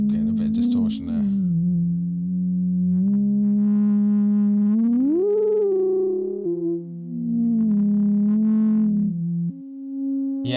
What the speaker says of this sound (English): I'm getting a bit of distortion there.